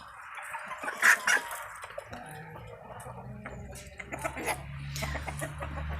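A hen and a rooster cluck on a small farmyard near ducks, giving a few soft, scattered calls with one brief louder squawk, faint over low rumbling background noise.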